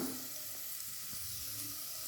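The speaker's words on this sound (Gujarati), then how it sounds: "તેલનો વઘાર" Hot oil tempering sizzles in an open pressure cooker while preparing stuffed bitter gourd, a soft, steady hiss with faint crackles throughout, close and alone.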